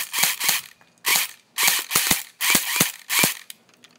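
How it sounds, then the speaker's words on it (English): An airsoft gun fired at a trampoline, with about ten sharp cracking shots in irregular pairs and singles, each close and loud with a brief rattling tail, separated by short silences. "I'm gonna shoot it and shoot it at the trampoline"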